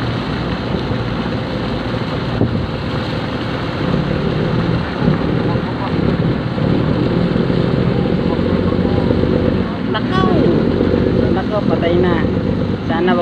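Fishing boat engine running at raised speed, a steady loud droning roar that fills the whole stretch, with water noise and faint voices underneath.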